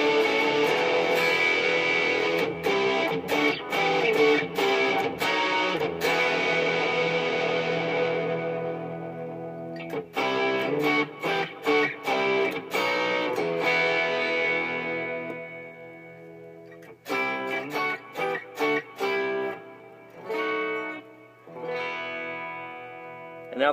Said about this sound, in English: Here's my Pod HD500X with a Bogner Shiva patch going on.